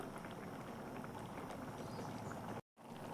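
Bottle gourd and grated coconut kootu boils in a pot, giving a steady, dense bubbling hiss that runs throughout, with a brief dropout near the end.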